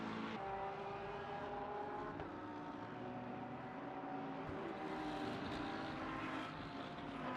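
McLaren GT3 race car engine in the Le Mans Ultimate racing game at Sebring, a steady faint droning engine note that holds throughout with slight shifts in pitch.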